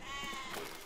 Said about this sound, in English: Let's kill the sheep.